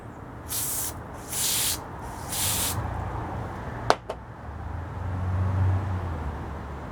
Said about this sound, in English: Little carburetor cleaner, can shoot that right out of there.